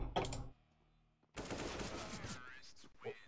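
Automatic gunfire in CS:GO, a short burst of rapid shots, then a pause and a second, longer burst of rattling fire, loud and close.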